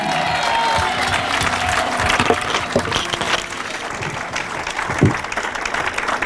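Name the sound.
audience applauding to acclaim God in church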